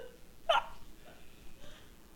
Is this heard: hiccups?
yes